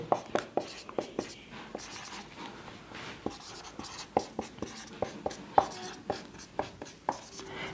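Pen or chalk writing out the English alphabet sequence during a lesson, a steady run of short tapping strokes close by, with a teacher's voice faintly in the background.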